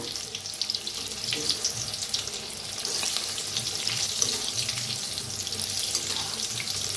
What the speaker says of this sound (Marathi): तर आता छान असं तळून घेऊया